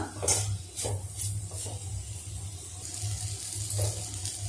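Water is poured into a cooking masala, a steady, continuous splashing pour lasting several seconds over a low background hum.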